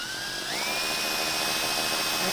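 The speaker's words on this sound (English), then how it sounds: "So now I'm just going to drill next" A power drill whines steadily while drilling holes for a chain plate on a sailboat, its pitch rising as it spins up early on, then holding a constant high buzz close by.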